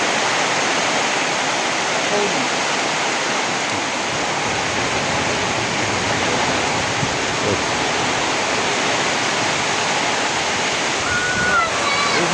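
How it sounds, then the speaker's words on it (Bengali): Fierce floodwater rushes in a broad, continuous roar that stays loud and even throughout, with a voice faintly present beneath the wash. "এই মুহূর্তে প্রচণ্ড বন্যা"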